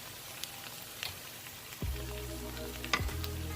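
Garlic and onion frying in a pan with a steady low sizzle, punctuated near the end by two sharper clattering stirs or drops into the hot pan.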